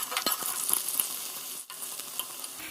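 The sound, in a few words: potatoes frying in a pan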